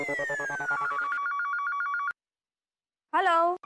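An outgoing call from a telephone to an office, an electronic ring tone with a falling pitch then a steady pulsing tone for about two seconds, a pause, and a brief burst of voice afterward.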